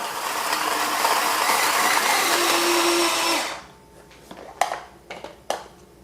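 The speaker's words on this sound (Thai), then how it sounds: "พริกแดงจินดาครับ 10 เม็ด ปั่นให้ละเอียดได้เลยนะครับ" A blender grinds ten red chilies loudly and steadily for about three seconds, then cuts off, followed by a few sharp clacks and knocks.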